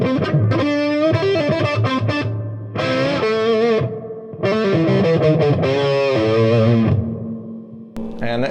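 Electric guitar through a Marshall Vintage Modern amp with plate reverb, overdrive off, playing loud, dense chord bursts with distorted edges and a short pause, each phrase trailing into a washy reverb tail.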